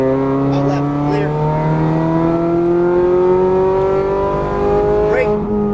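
Ferrari 430 Scuderia on a racetrack, its engine revving hard through rising and falling gear pulls with brief tire squeal, loud and close, while an instructor talks over it throughout.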